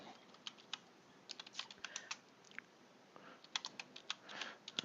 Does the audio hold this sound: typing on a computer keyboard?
yes